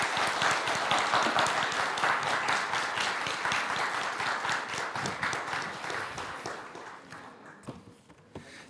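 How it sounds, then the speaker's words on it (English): A lecture audience breaks into dense, steady applause at the end of a Q&A session. The clapping is loud at first and slowly thins and fades, with a few scattered claps left at the close. "Please give Dr. Amanat a round of applause"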